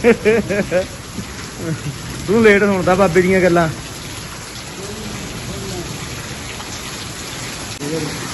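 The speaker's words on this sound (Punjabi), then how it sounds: "ਹਾਂ ਬਹੁਤ ਮੀਂਹ ਆ ਯਾਰ" Heavy rain falls steadily in rural Punjab, a constant wash of hiss beneath men chatting loudly nearby, with occasional quieter pauses where only the downpour is heard.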